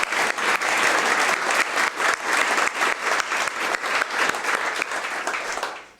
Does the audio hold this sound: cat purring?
no